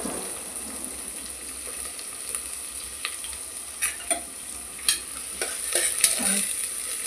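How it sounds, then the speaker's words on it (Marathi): Onion frying in oil with curry leaves in a pressure cooker, a steady low sizzle with occasional stirring scrapes and soft knocks that become more frequent toward the end. "आणि कांदा छान असा फ्राय करून घ्यायचा।"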